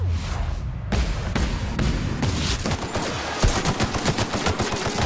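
A big gun firing in The Outer Worlds video game: rapid, loud, repeated heavy shots in a sustained burst, each blast punchy and booming, continuing steadily to the end.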